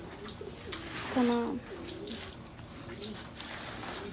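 Pigeons coo in a bird loft, a short throaty rolling call standing out briefly over a low background murmur, with voices speaking nearby.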